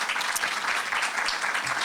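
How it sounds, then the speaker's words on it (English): A youth development convention crowd gives a speaker another round of applause, a steady, full burst of many hands clapping together without speech on top. "May you please give her another round of applause."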